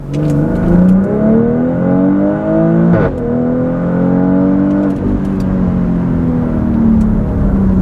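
A 2022 BMW X3 M40i with a CSZ exhaust accelerates in Sport Plus mode, its loud engine note rising repeatedly with crisp gear shifts interrupting the climb at about three and five seconds, heard from inside the car.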